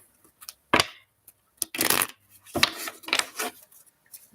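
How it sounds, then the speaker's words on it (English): Tarot cards shuffled by hand during a reading, a series of close, crisp riffling bursts separated by short pauses, with the longer flutters coming near the middle. "Shuffle 2 more times."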